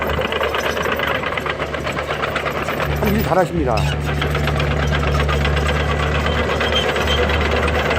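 A 12-year-old excavator's diesel engine runs steadily with a rhythmic knocking chug and mechanical clatter, loud and close, while someone speaks briefly over it.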